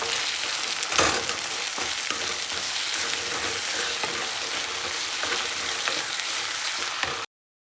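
Chopped tomatoes go into a hot pan of oil with a loud, steady sizzle that fills the whole stretch, broken by a couple of scraping clatters as they are tipped in; nobody speaks.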